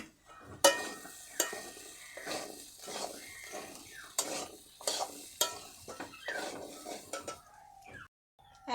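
Chili powder and Kashmiri chili fry in a pan for a Bengali egg and potato kuchla while a utensil scrapes and stirs, giving repeated clinks and scrapes over a soft, steady sizzle.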